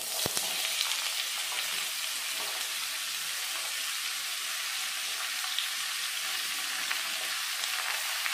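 Cut bottle gourd sizzles steadily in hot oil in a pan, a continuous bright frying hiss with a sharp knock at the start, close and even throughout with no talk.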